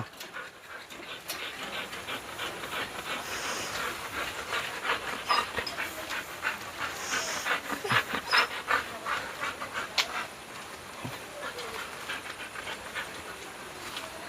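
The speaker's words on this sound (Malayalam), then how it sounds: "നാടൻ പോലത്തെ ക്രോസ് ബ്രീഡ് ഇത് ബീഗള" A beagle and a cross-breed dog in a kennel pant rapidly and steadily at close range, with the quick breathy rhythm continuing under faint background noise.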